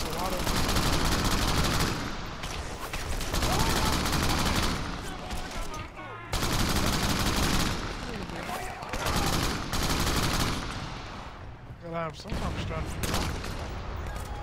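Dense bursts of rapid automatic gunfire in the video game Crackdown on Xbox One X, continuous volleys with brief pauses, loud and close, with a voice talking underneath at times.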